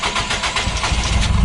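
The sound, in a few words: hot start of a 300 horsepower engine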